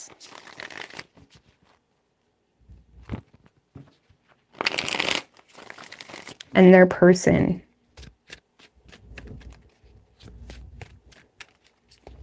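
Tarot cards are shuffled in a few short, crisp riffling bursts close up, with someone speaking briefly between them.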